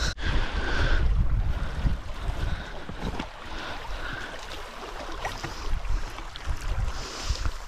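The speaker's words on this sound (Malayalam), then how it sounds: "ചെറുതായിട്ട് തിരമാലകൾ ഇങ്ങനെ വരുന്നുണ്ട്." Small waves lap against a boat on a lake at Eagle Point in Australia, a soft irregular splashing and sloshing mixed with wind rumble, strongest in the first second and continuing unevenly, with no voices.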